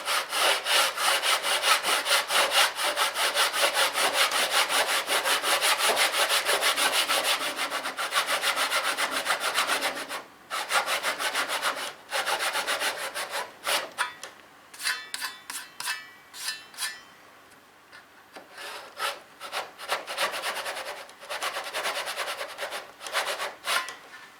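A hand saw cuts through wood to make a bench hook, giving steady rasping back-and-forth strokes, close and clear. Later the strokes become shorter and more broken up, with no talking.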